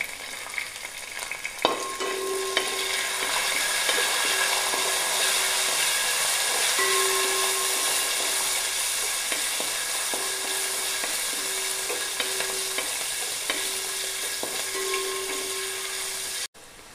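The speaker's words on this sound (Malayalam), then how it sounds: "ഇവിടെ നന്നായിട്ട് വഴറ്റിയെടുക്കുക." Indian gooseberry pickle mixture with asafoetida and bird's eye chilies is sautéed in a pan, with a continuous sizzle and scraping stirs throughout, plus a few faint tonal hums in the background.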